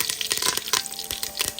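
Mustard seeds crackle and pop in hot oil for a Tamil beans poriyal, a dense run of sharp, close sizzling bursts that keep going throughout.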